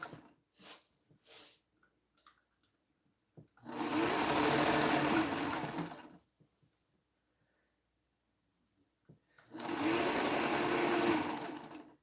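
A sewing machine stitches back over a seam in two sustained, fairly loud bursts of steady whirring, each lasting about two seconds and separated by quiet pauses with small handling clicks.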